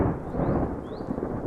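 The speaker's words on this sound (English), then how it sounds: "Thunder and lightning for real" Rolling thunder during a storm, a low continuous rumble with some rain-like hiss, fairly loud and steady across the moment, no voices.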